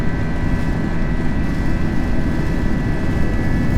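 A Spirit Airlines Airbus A320 taking off from Chicago O'Hare in the Prepar3D v5.4 flight simulator, with a loud, steady roar of engine noise that stays constant throughout.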